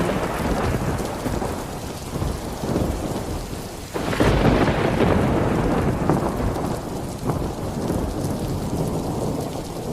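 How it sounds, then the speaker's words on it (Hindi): Heavy rain pours steadily and loudly, with a deep roll of thunder swelling midway and rumbling on beneath the downpour. "तभी बारिश होने लगती है।"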